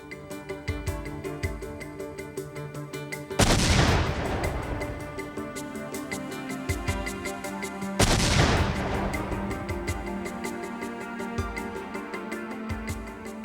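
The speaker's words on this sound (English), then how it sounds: "Specialists recreated and detonated the bombs." Recreated pipe bombs detonated by bomb investigators in a test: two sharp, loud blasts about four and a half seconds apart, each a broadband boom that decays over a second or two above a steady background hum.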